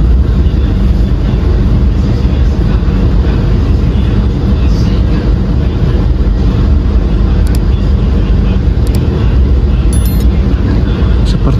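A long passenger train rolls into track 2 of Gombong station in Kebumen, Indonesia, making a loud, continuous low rumble from inside the carriage, with a few faint high clinks near the end.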